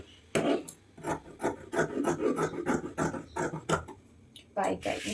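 Scissors cut fabric for an umbrella frock in a series of close, rasping snips, each stroke a short scratchy burst in an uneven rhythm.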